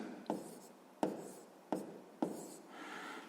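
A pen scratches out a math answer on paper in four quick, evenly spaced strokes, each a sharp scratch that fades fast, close and quiet with no voices.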